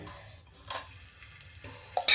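Coconut roasting in oil on a pan while being stirred: a quiet, soft sizzle broken by a few sharp scrapes of the spatula against the pan.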